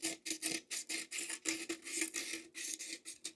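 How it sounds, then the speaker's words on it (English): Medium grit sandpaper scrubs a sump pump pipe joint in rapid back-and-forth strokes, a rhythmic raspy scratching of about a dozen quick passes, close and clear with no talk. "I'm just using some medium grit sandpaper"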